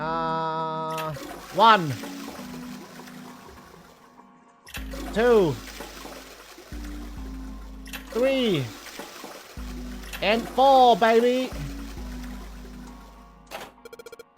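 A toilet in the Zero Escape 999 video game flushes repeatedly, four rushes of water in turn, each with a short chiming tone, while a man counts aloud between them.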